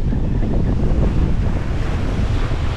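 Ocean waves surge around a solo sailing boat at sea on the passage from Hobart to Chile, a steady broadband roar of water and rushing wind buffeting the microphone, with no talking.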